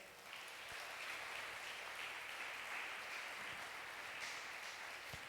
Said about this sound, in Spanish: Dar un aplauso a Él